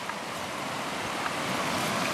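Small river rapids on a canoe trip in Algonquin Park, heard as a steady rushing, churning wash of water that fills the whole clip, with faint wind buffeting the microphone and no talking.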